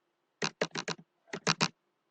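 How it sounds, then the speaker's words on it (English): A name typed on a computer keyboard: seven crisp, close keystrokes in two quick bursts of four and three, separated by a short pause, against near silence. "Here I will type another name, Kritika"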